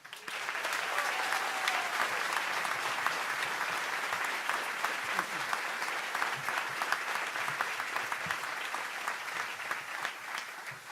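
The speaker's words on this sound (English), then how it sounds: "Please give a round of applause for our chancellor, Dr. Kevin Howell." Sustained applause from a large crowd at a basketball coach's introduction, steady and loud throughout, dense clapping with no pauses.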